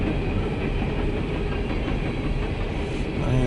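CSX E750-11 empty coal train rolling westbound, a steady close rumble of wagons with clickety-clack over the rails, loud and continuous throughout with no voices.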